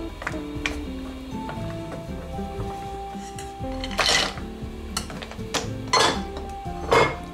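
Butter and chocolate melting in a pot and being stirred, with repeated clinks and scrapes of a utensil against the metal pan, rhythmic and close, plus a few sharper knocks and faint background tones.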